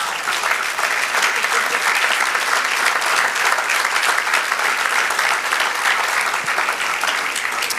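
A church congregation claps loudly and continuously, dense applause filling the room at a steady level throughout.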